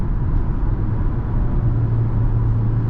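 A 2024 Hyundai Tucson with an 8-speed automatic transmission driving, heard from inside as a steady low engine and road rumble with a slight hum that changes pitch midway.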